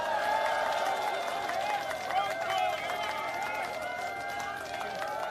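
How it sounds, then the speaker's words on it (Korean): A crowd at an outdoor election campaign rally in Cheonho Park, Seoul, claps and applauds continuously at moderate volume, a dense steady patter with some cheering mixed in. "뜨거운 박수 부탁드립니다"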